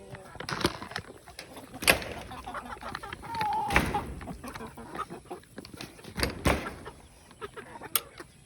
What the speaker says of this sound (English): Then you got these chickens right here.